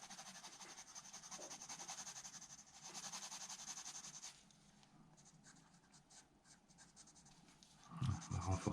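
Pencil shading on paper while drawing a nature landscape, layers crossed to saturate the sheet: a steady close scratching rub in long strokes, softening midway, with a brief louder knock near the end.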